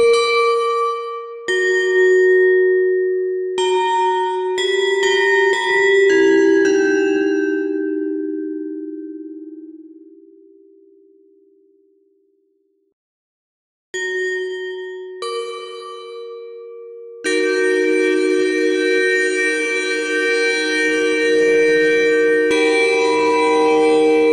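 Synthesized mallet tones like a marimba, a run of bright struck notes ringing out and fading, then after a pause more notes and a sustained held chord.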